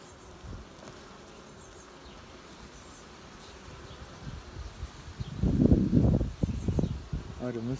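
Honey bees working at a beehive fitted with a pollen trap on a windy day give a steady insect buzz that swells into louder, close bursts toward the end, with some wind noise.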